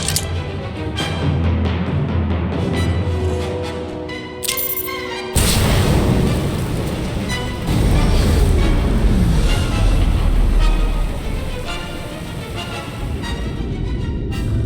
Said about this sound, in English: reports of an explosion near the ion cannon